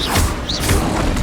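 Depulso force spell in Hogwarts Legacy, a loud, dense burst of magical whooshing and thudding impact noise filling the short moment.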